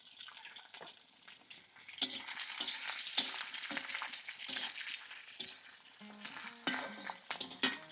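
Onions and a bay leaf sauté in a pan while being stirred, making a soft sizzle broken by scraping and clinks of the spoon against the pan, close by and fairly quiet.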